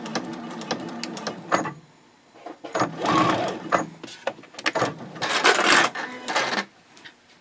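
Sewing machine back stitching fabric on a fold flat project bag, with short bursts of clattering, rattling stitches and clicks in an irregular rhythm, close up and fairly loud, with brief quiet gaps.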